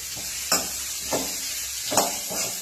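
Bottle gourd pieces with green chillies fry in oil under a constant hissing sizzle, broken by a few separate stirring scrapes spaced about a second apart.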